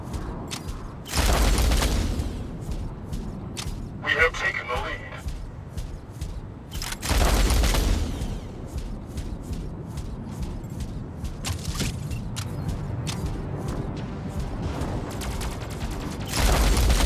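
Mech Arena battle sounds: sustained bursts of gunfire and heavy explosions from robot combat, with loud booming blasts recurring at intervals over continuous rattling fire.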